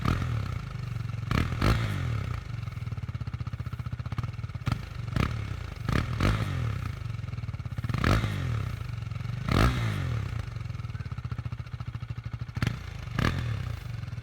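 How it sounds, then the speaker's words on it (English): KTM Duke 390 motorcycle engine idling with a low, lumpy exhaust rumble, blipped repeatedly into short revs that rise and fall, close and loud. "Let us hear the exhaust note of this bike."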